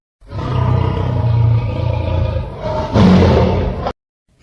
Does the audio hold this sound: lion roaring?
yes